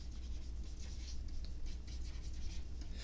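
Pencil strokes scratch steadily across drawing paper, a continuous soft scraping with quick repeated strokes, close and quiet, while background water in a drawing is roughed in.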